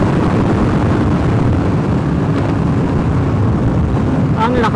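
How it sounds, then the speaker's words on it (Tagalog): Loud, constant wind roars and buffets the microphone throughout, a dense rumbling rush with no pauses, heard while riding a Kawasaki Ninja ZX-6R motorcycle with a helmet on. "Ang lakas ng hangin."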